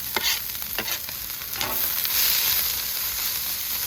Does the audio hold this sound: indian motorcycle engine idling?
no